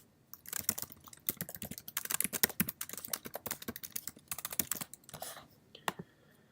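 Rapid clicking of keys on a computer keyboard as a comment is typed, in quick irregular bursts with short pauses, close and fairly quiet.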